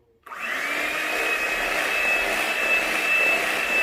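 An electric mixer beats cookie dough in a home kitchen, a loud, steady motor whir that starts abruptly after a brief quiet moment and runs on without a break.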